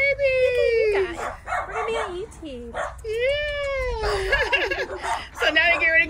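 Schnauzer puppies at a doggy daycare and grooming shop give high, sliding whines and yips, several close together, with brief barks mixed in over a busy indoor background.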